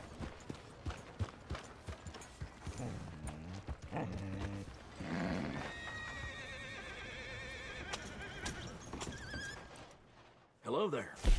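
A horse in Red Dead Redemption 2 whinnies in a long, wavering call amid hoofbeats and game ambience, with voices and scattered effects around it; a loud thump closes it.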